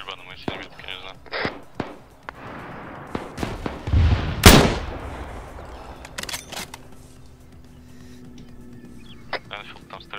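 Scattered gunshots in the game ArmA 3 crack out in short bursts, one loud close blast mid-clip and fainter distant shots, with voices talking throughout.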